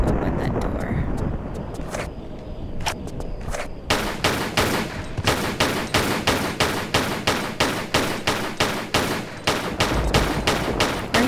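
Gunfire in the video game Tomb Raider IV: a few scattered shots, then a rapid, evenly spaced run of loud pistol-like reports firing about three times per second for several seconds.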